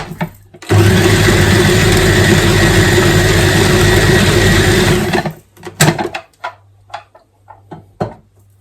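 A food processor whizzes a dough mixture in a loud, steady whirring burst of about four seconds, then stops, followed by clattering and handling noises.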